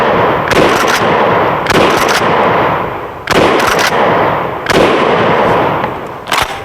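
A KSG 410 bore pump shotgun at an outdoor range fires five sharp, loud shots spaced about a second apart, each with a short echoing tail, with no talking.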